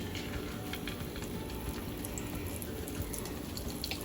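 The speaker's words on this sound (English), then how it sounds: "And then we're going to place it in the frying pan." Steady sizzling and crackling hiss of battered Cajun fish frying in hot oil in a pan, close and continuous, with no voices.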